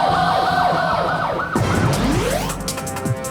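A fire engine siren wails loud and close in sweeping rising and falling tones, overlapping as the pitch slides, in a Korean broadcast segment about fire engines being unable to reach a fire scene.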